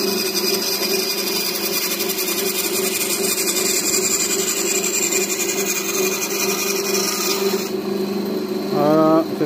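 A thin blade saws through wood along a marked line, a steady close rasping stroke that runs continuously before stopping, with a brief voice at the end.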